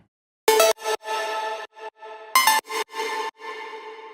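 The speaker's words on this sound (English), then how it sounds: "Yeah, 8-bit ARP." A bright, buzzy 8-bit arpeggio synth built in Serum plays short choppy note bursts in two repeating phrases, dry and upfront with silent gaps between.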